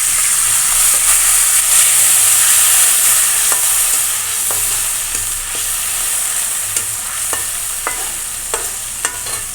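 Fried onion and garlic hiss and steam loudly in a pan after water is added for taro leaf cooking, a continuous bright sizzle with occasional stirring taps, no voices.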